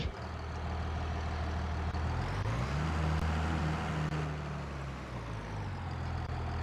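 Tractor engine in the Farming Simulator 23 video game, a steady low diesel drone that rises in pitch midway as the engine revs, then settles again, loud and continuous with no talk.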